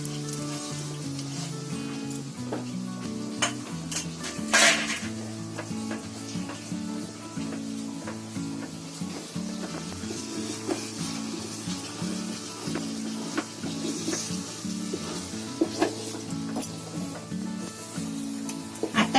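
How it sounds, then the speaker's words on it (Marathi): Sweet mixture thickening in a pan with chopped almonds stirred through, a steady close sizzle with soft scraping strokes throughout, a brief louder scrape partway in. "आता ढवळताना फक्त जरा"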